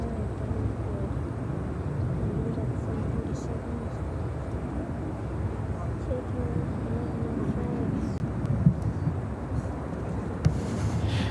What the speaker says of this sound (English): Turkish Airlines taking off in